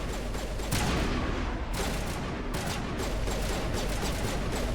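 Sustained gunfire in a BioWare video game, a loud continuous volley of shots with sharper bursts, dense and close.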